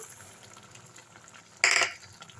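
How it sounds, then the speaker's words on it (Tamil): A tempering for banana stem dal kootu is tipped into a kadai, producing one short, loud sizzling splash over an otherwise quiet kitchen background. "இப்போ தாளிப்பு எடுத்து கொட்டிடலாம் இப்போ இந்த கடாயிலே போட்டுடலாங்க"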